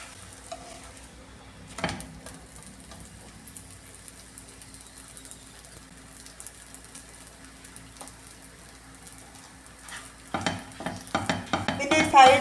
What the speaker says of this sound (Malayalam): ഇനി ഇതിൽ കുറച്ച് എണ്ണ ഒഴിച്ചു കൊടുക്കാം. എണ്ണയിലിട്ട് ഇത് നന്നായിട്ടൊന്ന് മൊരിയിച്ചെടുക്കാം രണ്ട് സൈഡ്.